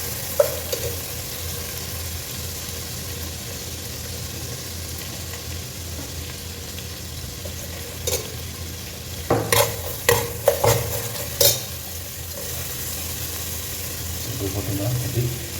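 Green chillies sauté in a pan with a low, steady sizzle, broken by several clattering stirs and scrapes of a utensil midway through, close and fairly quiet.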